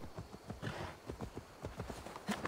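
A horse's hooves clip-clop at a walking pace in Assassin's Creed Valhalla, a steady run of soft, fairly faint hoofbeats.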